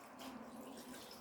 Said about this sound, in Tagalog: Liter na tubig ang ilalagay natin doon.